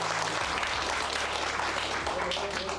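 Audience applause at a talk event, steady and continuous for the whole short stretch, with a voice faintly under it.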